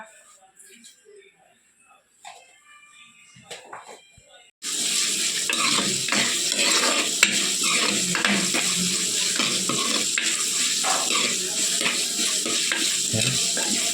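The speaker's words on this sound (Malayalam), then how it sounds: "വെളിച്ചെണ്ണ ഒഴിച്ചു കൊടുത്തിട്ടുണ്ടെങ്കിൽ നമുക്ക് ഇത്തിരി ഉലുവ ഇട്ട് കൊടുക്കാം" Fenugreek seeds crackle and sizzle loudly in hot coconut oil, a dense continuous frying hiss that starts abruptly after a few seconds of quiet kitchen sounds and holds steady with occasional stirring clinks.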